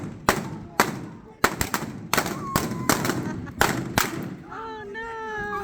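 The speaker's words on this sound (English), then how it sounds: "Be ready, they're gonna shoot" Blank gunshots at a Wild West shootout reenactment behind the OK Corral in Tombstone, Arizona: about ten loud, sharp reports in an irregular volley, echoing outdoors, followed by a person shouting.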